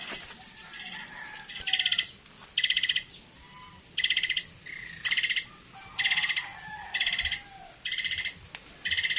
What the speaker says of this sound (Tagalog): Saan po kaya yung ibon na yan?